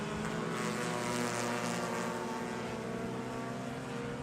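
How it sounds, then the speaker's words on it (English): A race car rolls slowly along the Road America circuit at the 2024 Hoosier Super Tour, its engine a steady, distant drone that holds an even level throughout. "sounds like we do have a car coming down rather slowly, coming out of turn 3"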